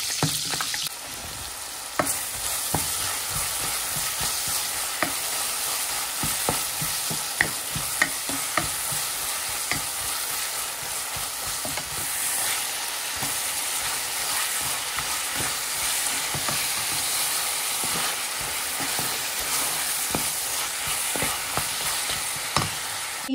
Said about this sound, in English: So I'm gonna fry them and then I'm gonna put it in the mixture.